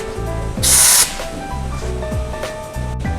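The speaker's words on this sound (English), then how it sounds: "Connect the air pipes." Compressed air gives one short, loud hiss, close by, as the air pipes are connected to a pneumatic 80x100 draw-out heat press. Steady tonal background sound runs throughout.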